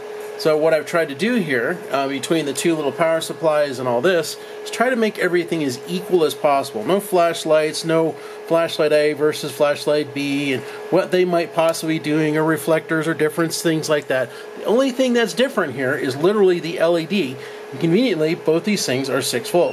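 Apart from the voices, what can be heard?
cooling fans of heatsink and power supply running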